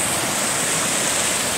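Cold creek water rushing and flowing steadily, a loud continuous broadband hiss and splash close by, with no voices.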